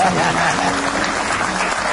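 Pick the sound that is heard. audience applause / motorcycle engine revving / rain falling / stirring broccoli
audience applause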